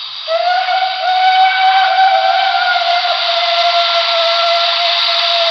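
A BLI PRR L1s model steam locomotive sounds its long whistle again, a loud sustained chime tone that starts abruptly and holds steadily to the end, alone without speech.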